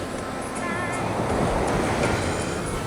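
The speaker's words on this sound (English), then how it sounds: "you can obviously hear the waves and the sound on the outside" Ocean waves wash and surge in a steady broadband roar, close and continuous with a rolling swell, mixed with some wind noise.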